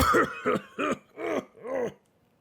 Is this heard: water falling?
no